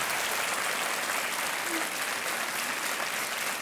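A KBC Season 6 studio audience applauds steadily and evenly throughout, a dense wash of claps with no pauses and no voices.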